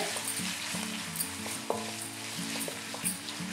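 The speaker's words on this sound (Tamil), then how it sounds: "வெங்காயம் வதங்கிட்டு இருக்கு. இந்த ஸ்டேஜில் இஞ்சி பூண்டு விழுது சேர்க்குறேன்." Onions sautéing with ginger garlic paste in a pan for mushroom pepper rice, a soft steady sizzle with occasional spoon taps and stirring clinks.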